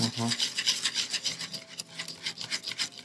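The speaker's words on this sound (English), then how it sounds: "you're beating with a whisk until you get all the lumps out" Whisk beating thick Christmas bread batter to work out lumps, a steady rhythmic scraping and rubbing with regular strokes, close and fairly loud, with faint talk underneath.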